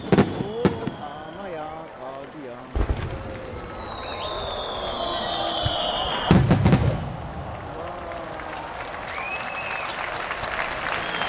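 Finale of the Montedio Yamagata fireworks festival: booming bursts and rising whistles over sustained crowd applause and cheering, with people talking nearby throughout.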